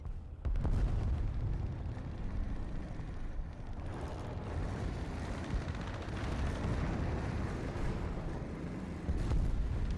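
Tank cannon fire aimed at an IS-2 in a tank video game, with a deep rumbling boom early on over a continuous low engine and battle rumble that persists throughout.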